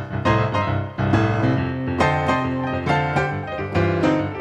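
Blues piano played at too quick a tempo, a steady run of rhythmic chords and bass notes that drifts toward a boogie-woogie feel, loud and close with no talking.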